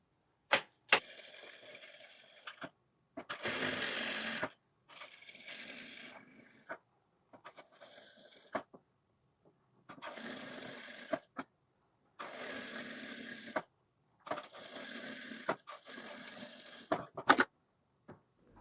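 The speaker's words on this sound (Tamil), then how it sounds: "இப்போ நம்ம இந்த ஃபோமை சுற்றியும் அப்படியே ஸ்டிச்சிங் பண்ணணும்." A sewing machine stitches around foam on a blouse in a series of short bursts, each a few seconds of rapid mechanical chatter separated by silent pauses, close and clear.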